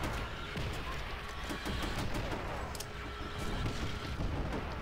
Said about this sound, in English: that was a lucky grenade